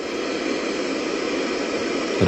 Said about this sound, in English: You guys got that static white noise?